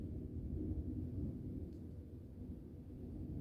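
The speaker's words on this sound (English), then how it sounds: "I hear thunder thundering out there" Thunder rumbling outside, a steady low distant roar that holds through the whole stretch with no clear crack, faint against a quiet room.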